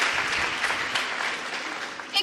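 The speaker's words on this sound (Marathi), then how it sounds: "एकदा जोरदार टाळ्या वाजवून परत आपल्या बालकलाकारांचा उत्साह वाढवा" An audience at a children's drama festival claps for the child actors, a steady burst of moderately loud applause that continues evenly throughout.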